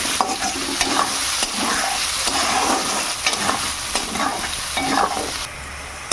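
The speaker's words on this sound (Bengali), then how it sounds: "আলুটাকে চিরা মুরগির সঙ্গে একটু ভেজে নেবো প্রথমে" Potatoes frying in a pan with chicken, giving a loud continuous sizzle broken by repeated scraping stirs of a spatula, with no talking.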